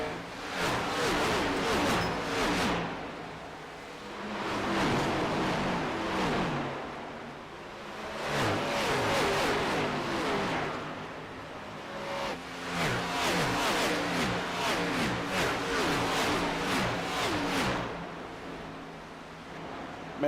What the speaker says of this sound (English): Man, these cars just sound so good when they're flying by.